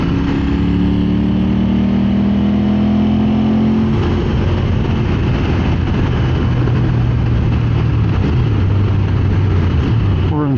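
Ducati 900SS motorcycle engine pulls at 4,000 RPM in fifth gear, a loud, steady, close rumble with rising engine tones and wind roar, no talking.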